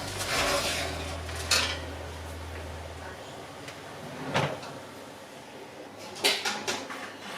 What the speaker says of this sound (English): So here is our beautiful pie that I'm just taking out of the oven.